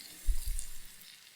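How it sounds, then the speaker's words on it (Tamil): Mustard seeds and curry leaves frying in hot sesame oil, giving a brief, close crackling sizzle that swells for a moment and then settles into a softer hiss. "கடுகு நல்லா பொரியட்டும்"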